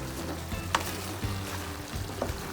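Chicken caldereta with ketchup sizzles in a pan as it is stirred, a steady close frying hiss with a few scraping clinks of the spoon.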